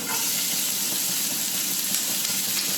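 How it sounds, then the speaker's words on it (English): Chopped onion hitting hot oil for a Philly cheesesteak, a dense, even, close sizzle holding steady for a few seconds with no talking over it. "now that the oil is hot, I'm gonna add the chopped onion"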